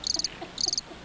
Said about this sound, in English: you should insert cricket sound.